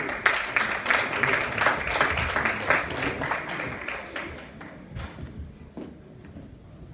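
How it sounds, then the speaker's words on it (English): Applause at an elections commission certification event, dense clapping from a crowd that gradually thins and fades toward the end, with a few louder claps near the close. "Another round of applause, please."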